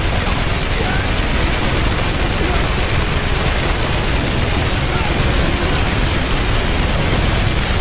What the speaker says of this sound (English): Oh man, I'm causing so much explosions,